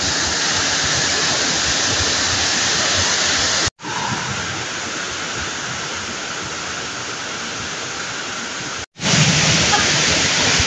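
Lobcon Falls, a waterfall in Cortes, Surigao del Sur, pours with a constant dense rushing roar, loud and close. The sound cuts out briefly twice and then resumes, and no voices are heard.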